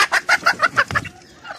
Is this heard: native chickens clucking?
yes